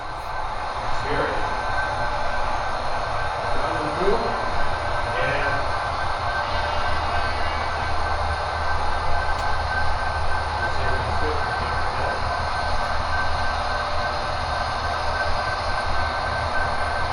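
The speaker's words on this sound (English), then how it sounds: "busted out the steam era locomotive here. We're going to kind of follow this train a bit here" An HO scale model steam-era locomotive runs along a club layout at a Green Bay train show, a steady rolling rumble with faint wheel squeals under a busy hall hum and distant chatter.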